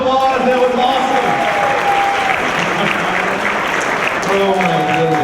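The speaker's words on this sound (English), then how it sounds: "Give yourselves a round of applause." Loud audience applause at a comedy show, steady and full throughout, with voices and tonal calls rising over the clapping.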